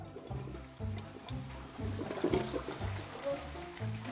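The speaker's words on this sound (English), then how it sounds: "will this flush? Yes, it will." A toilet flushing while testing whether wet products will go down, with a steady rushing, gurgling water flow lasting several seconds at moderate loudness.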